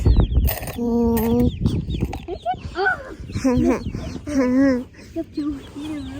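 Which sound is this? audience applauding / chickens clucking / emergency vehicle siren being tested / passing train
chickens clucking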